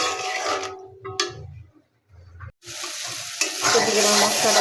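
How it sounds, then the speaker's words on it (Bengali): Chili and mixed spices sizzling in a pan for a boal fish curry, with spoon-scraping stirring bursts, a brief quiet pause, then loud continuous frying hiss. "এখন মশলাটা ভালো করে কষাই নিই।"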